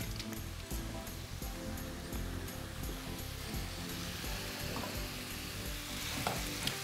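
Stuffing for a crepe casserole frying in a pan, giving off a steady, even sizzle that holds at moderate loudness from start to finish with no voices.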